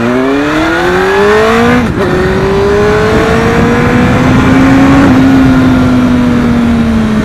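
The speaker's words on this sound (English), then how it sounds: "it's always fun when you're at a traffic signal and you get to launch a motorcycle." An 18-year-old Honda Fireblade superbike engine revs hard and loud as it launches from a traffic signal, the pitch climbing through a quick gear change and then holding a steady high drone close by.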